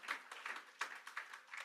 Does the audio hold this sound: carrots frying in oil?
no